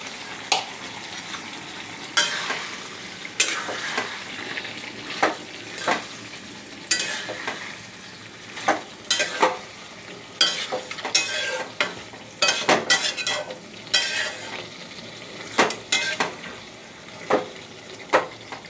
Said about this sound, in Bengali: এর মধ্যে দিয়ে দিচ্ছি এঁচোড়টা। এঁচোড়টা দিয়ে আর একটু কষিয়ে নেব।